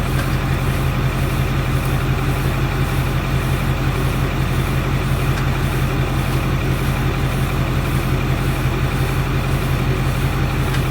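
Steady low engine drone of a 2009 Ford F350 truck creeping along at about 5 km/h, a constant close rumble with broadband noise and no speech.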